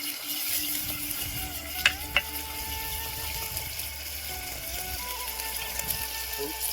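Potatoes sizzle in a pan for a Gujarati spiny gourd curry, giving a soft, continuous fry crackle with a few small clinks of a utensil against the pan.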